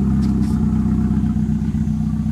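A Ford Focus fitted with a modified stage two exhaust rumbles with a deep, steady engine note at close range, broken by faint irregular crackles, with no talk.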